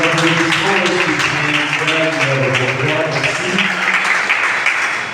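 A conference audience applauds at an awareness event on including women with albinism, a steady wash of clapping running throughout while a voice talks over it.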